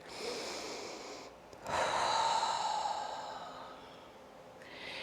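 One slow, deep cleansing breath during a guided yoga session, a long airy inhale swelling into a fuller exhale, close and fairly quiet with no talking.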